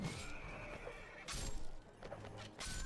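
Horses in a video game neigh in a few loud, shrill whinnies, with hooves clattering in the background.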